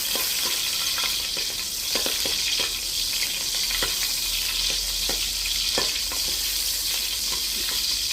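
Big fresh prawns fry for pad thai at a Thai street food stall, a loud continuous sizzle close by, broken by frequent light scrapes and clicks of a spatula against the pan.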